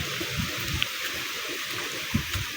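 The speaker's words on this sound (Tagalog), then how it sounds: "Malakas yung hangin, malakas yung dagat." Rough sea water churning under strong wind ahead of a typhoon, a steady broadband wash with a few brief splashing surges, heard alone without voices.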